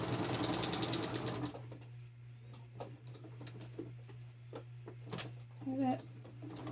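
A sewing machine running briefly at the start while stitching along the edge of a pin cushion square, a dense rapid whirr for about a second before going quiet, followed by faint handling clicks and soft room noise.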